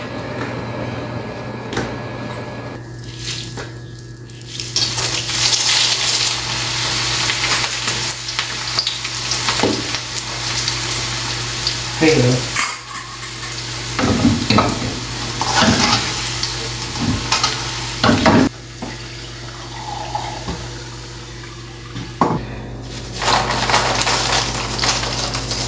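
Chilies frying in oil for Thai chili paste, a loud continuous sizzle close up with repeated scraping and knocking of a utensil stirring the pan and a steady background hum, no talking.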